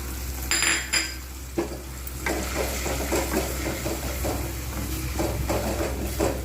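Chili and turmeric powder with onion fry in a pan for a Punjabi-style rajma curry, a steady sizzle running throughout under repeated scraping and clinking stir strokes, close and fairly loud.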